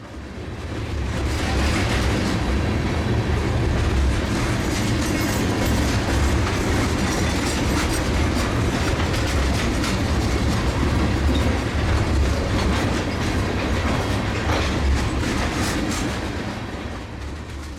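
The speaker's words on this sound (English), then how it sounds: "Northbound Manifest MSZSH speeds by our cameras." A northbound KCS manifest freight train on the Beaumont Subdivision rolls past close by with a loud, steady roar and the clatter of wheels on the rails, sustained for the whole stretch.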